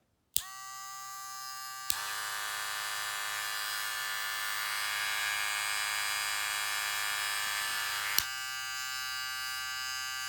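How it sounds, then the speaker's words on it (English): A modified Wahl hair clipper converted to an Andis Master style runs with a steady, loud electric buzz and rattle for about eight seconds, switching on and off with sharp clicks, with no talking. "you got to be able to differentiate the blade's noise from the motor noise"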